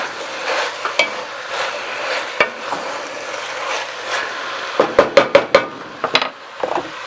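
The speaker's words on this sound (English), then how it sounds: "Give it a little stir." Red chile pork is stirred in a pot, giving soft scraping and shuffling over a faint sizzle, then a quick run of sharp utensil clicks against the pot near the end.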